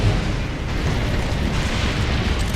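Mortar explosions in the video game Gears of War Judgment, a dense, continuous rumble of booming blasts close by, loud and without speech.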